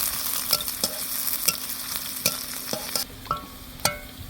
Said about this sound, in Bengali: এই যে পেঁয়াজটাকে আমি ভেজে নিব বাদামি করে